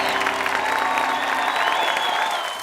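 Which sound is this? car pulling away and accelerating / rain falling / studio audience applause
studio audience applause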